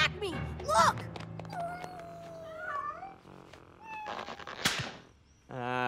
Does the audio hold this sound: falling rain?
no